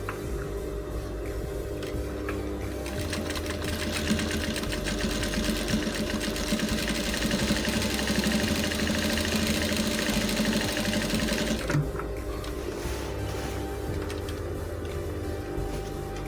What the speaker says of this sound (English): I'm going to give it a double stitch there